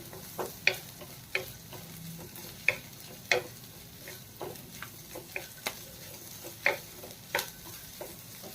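Corn and capsicum frying in oil in a pan, a low steady sizzle broken by a regular run of sharp clicks and taps from stirring, close and fairly quiet with no talk.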